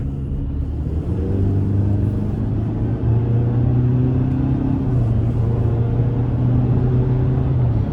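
A 2024 Chevrolet Silverado 1500 Work Truck Double Cab with the TurboMax engine pulls hard under acceleration, its steady low engine drone rising in pitch partway through, loud and close with no talking.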